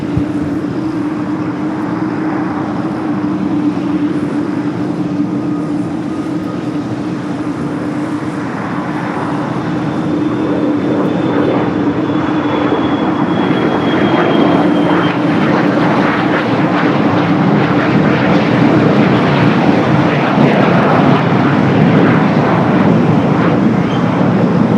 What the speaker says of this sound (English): Should be the next takeoff, flight 803, heading to Honolulu in a 13-year-old